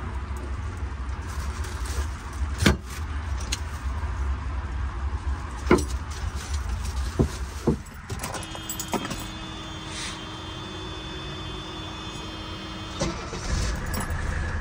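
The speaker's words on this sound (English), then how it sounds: "Okay, this window works excellent. They go up surprisingly well." A 1983 Mercedes 300D's electric window motor hums steadily for several seconds as the glass rolls up, after a few clicks and thumps inside the car.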